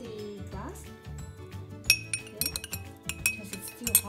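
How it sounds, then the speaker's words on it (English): A metal spoon clinks against a glass while a tablespoon of kumquat preserve is added for a cough and sore throat remedy, with several sharp, bright taps and scrapes in quick irregular bursts, all fairly close. "you get a tablespoon of the kumquat, put in the glass"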